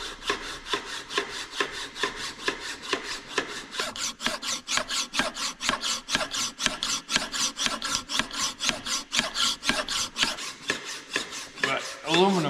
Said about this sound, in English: But aluminum tends to plug up the file, so we only get a little bit, and then we have to clean out the file again.